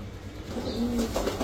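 A female Red Checker racer pigeon gives a soft, brief coo up close against a low background murmur.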